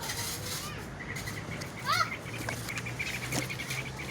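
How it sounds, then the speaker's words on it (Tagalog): A single short chirping bird call stands out briefly over a steady outdoor background hum, with faint voices and high tones around it. "Yan ang ibon."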